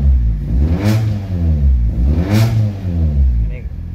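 A fuel-injected car engine running on LPG gas is revved twice in a row, each rise in RPM swelling to a loud, close roar before settling back to a rumbling idle in a noisy room.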